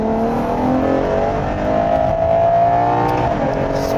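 Ferrari Purosangue V12 SUV in sport mode, held in second gear with the windows closed, its engine and exhaust note rising smoothly as it accelerates, heard from inside the cabin as a steady, strong drone over four seconds.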